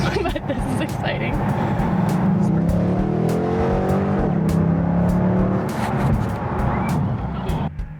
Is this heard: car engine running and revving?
yes